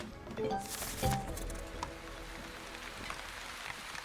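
Steady patter of rain falling in the video game The Wandering Village, a soft continuous wash with a few brief clicks and tones near the start, no voices.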